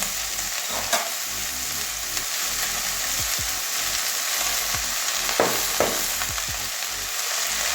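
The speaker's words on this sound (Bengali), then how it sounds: "এবারে ধুয়ে রাখা কলমি শাকটা দিয়ে দেবো" Water spinach sizzles in hot oil in a pan with onion and garlic, a steady frying hiss broken by the scrape and clatter of stirring, close and loud, with no voices.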